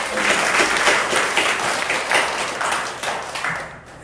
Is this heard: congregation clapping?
yes